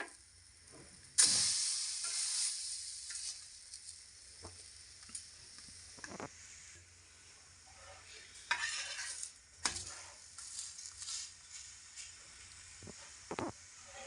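Leftover roti kulcha sizzles and fries in a pan, with a loud burst of sizzling as it is flipped and occasional scrapes of a utensil against the pan.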